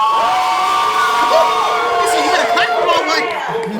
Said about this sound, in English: Let's give a round of applause for her, please, everyone.